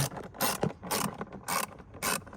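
Ratchet tightening T20 bolts on a Seat Ibiza airbox, four quick bursts of clicking pawl spaced evenly about half a second apart, close and clear with no talking.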